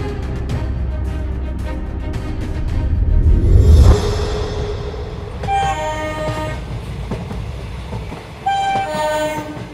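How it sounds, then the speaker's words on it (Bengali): A cartoon train in a Bengali horror animation rumbles loudly and close by, swelling to a heavy roar before sounding repeated horn blasts over the running noise. "ট্রেনে চেপে বসলাম।"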